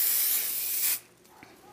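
A spray can hisses steadily onto quilt fabric for about a second, loud and close, then cuts off abruptly, leaving quiet room sound with a faint tap.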